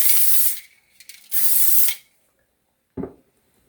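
Cooking spray hisses onto a casserole dish in two close bursts of about half a second each, followed by a short clunk of the can or dish.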